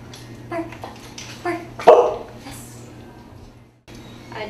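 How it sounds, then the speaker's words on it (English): Trained service dog barking on command, a few sharp barks and yips close by, interleaved with people talking and a quiet steady hum. "she's trained to bark on command."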